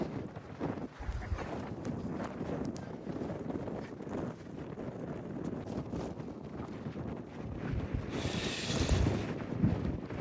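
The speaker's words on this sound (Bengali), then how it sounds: "প্রচন্ড বাতাস। ওই সাইডে আর কিছু পানির জলরাশি, তো বাতাসটা হওয়াটাই স্বাভাবিক।" Strong wind blows beside open water, roaring and buffeting the microphone in rumbling gusts that swell louder toward the end, with no voices.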